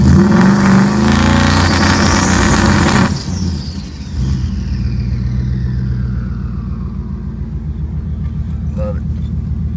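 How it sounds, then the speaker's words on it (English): Single-turbo Ford Coyote-powered car on a two-step launch control, a loud, rapid popping engine burble held steady, then easing into a lower rumbling idle with faint wind noise. "if you want to hear what the two-step sounds like, I got it in gear right now"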